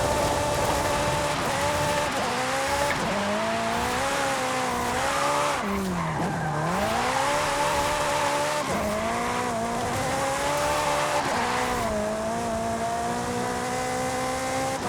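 Racing car engine in Forza Horizon 5 video game revving through gear changes with tire squeal and skidding, loud and continuous throughout, engine pitch rising and dropping sharply around a hard corner.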